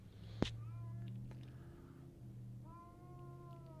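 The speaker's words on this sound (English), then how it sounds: "That is a very unhappy cat." An unhappy cat caterwauls in long, wavering, drawn-out yowls that rise and fall, with a single sharp tap near the start, heard fairly quietly indoors with no talking.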